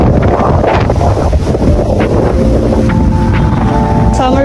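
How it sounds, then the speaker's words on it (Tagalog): Strong wind buffets the microphone at an outdoor resort with a pool, a constant loud low rumble filling the whole clip, with faint background voices and tones near the end. "grabe ang lakas ng hangin dito"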